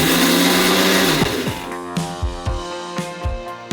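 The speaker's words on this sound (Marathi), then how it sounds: "मिक्सरच्या भांड्यामध्ये जाडसर पेस्ट करून घेतली" A mixer grinder whirs loudly grinding coriander and ginger into a coarse paste for alu vadi, then winds down into a series of uneven thumps and rattles as the motor pulses and stops.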